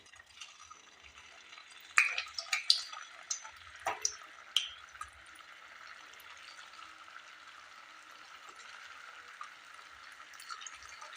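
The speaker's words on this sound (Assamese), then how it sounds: "এয়া মই 2 নম্বৰ পিঠাকেইটাও এইদৰে ভাজিম।" Assamese pitha cakes fry in a pan, a soft steady sizzle with a cluster of sharper clinks and stirring scrapes early on, then settling into quiet bubbling.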